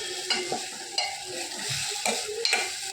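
Cooked rice is stirred into egg, onion and tomato in a hot pan, with a spatula scraping and tossing at an uneven rhythm over a steady close sizzle of frying.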